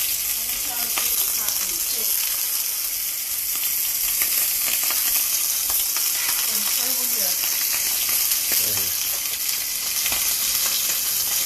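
Scallops searing in a very hot pan, giving a loud, continuous sizzle and spatter with a few faint background voices beneath it.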